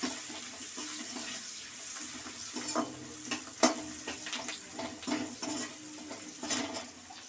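Chilli chicken ingredients sizzle and fry in a pan while being stirred, producing a steady hiss with scraping and clinking of the spoon against the pan, close and alone.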